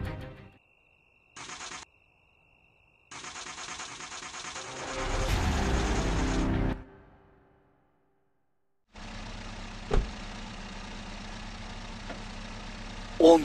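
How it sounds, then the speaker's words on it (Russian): A freshly assembled pickup truck engine makes short cranking bursts, then catches and runs briefly before cutting out; after a pause it starts again and settles into a steady idle, heard close with no talk. "настал тот самый момент, когда я запущу двигатель, полностью собранный"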